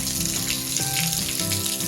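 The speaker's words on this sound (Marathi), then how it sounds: "गायीच्या मुखातून अशा पद्धतीने पाणी येते" Water pours steadily from a carved stone cow-mouth spout, a continuous splashing rush with a faint ringing undertone.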